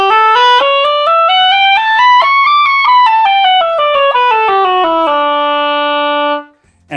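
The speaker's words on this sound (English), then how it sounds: "And that's the sound of an oboe." An oboe with its double reed fitted into the hollow wooden body plays a clear, bright solo line. It climbs step by step through a scale, comes back down, and ends on a long held note, close and loud.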